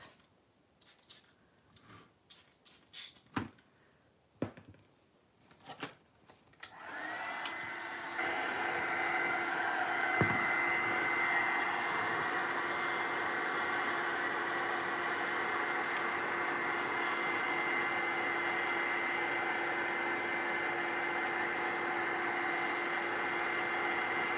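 Hair dryer drying paint on a tall, slim paper collage: a few quiet handling clicks and taps, then the dryer switches on and blows with a steady, loud, even whoosh to the end.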